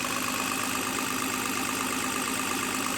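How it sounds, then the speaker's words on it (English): A steady engine idling, a Toyota 2H diesel with 12HT pump, an even continuous rumble with no changes in pace, nobody talking. "You can hear it's idling."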